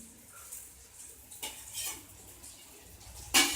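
Okra and French beans stirred into a mixed vegetable sabji with tomatoes in an earthen pot, with soft intermittent scrapes and clatters, a few sharper spoon knocks standing out over a quiet background.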